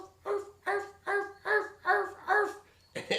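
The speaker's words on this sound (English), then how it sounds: "like an alert call to like all the prairie dogs" A prairie dog gives a high-pitched alert call, a run of seven sharp, evenly spaced yips close by, each a short bright chirp.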